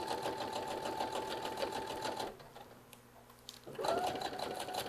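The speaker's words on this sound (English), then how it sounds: "And then making sure to backstitch at the end." A sewing machine stitches fabric for a summer outfit, backstitching at the end of a seam: a close, rapid mechanical whirr that pauses briefly partway through, then starts again just as loud.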